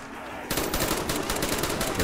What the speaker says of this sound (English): I can handle this with an upgraded HK